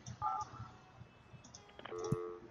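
Telephone dialing tones play in the building-management game Project Highrise, a few short soft DTMF beeps and electronic chirps sounding quietly on their own.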